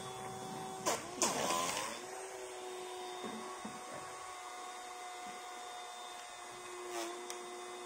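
Small motor of an aerodynamic robot model whirring with a thin, steady electric whine, with a couple of louder rushing bursts early on, faint and close.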